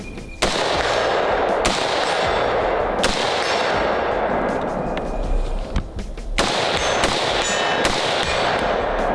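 Repeated rifle gunshots at an outdoor shooting range, loud and close, with several sharp reports spaced a few seconds apart over a steady background.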